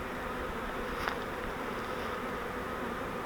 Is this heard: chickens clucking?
no